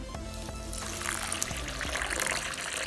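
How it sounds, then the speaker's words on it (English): Excess water is poured off washed moong dal in a bowl, a soft steady trickling splash heard close by and quiet, with no one speaking. "Spill the excess water and then soak it for around 3 to 4 hours."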